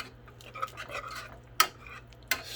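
A whisk scrapes and stirs through a pot of mac and cheese just taken off the heat, with soft continuous swishing and two sharper metallic clinks against the pot, close and quiet with no talking.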